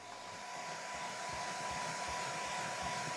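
A hairdryer warms contact adhesive on boat headlining inside a sailboat forepeak, giving a continuous close whooshing blow with a faint steady whine and no speech.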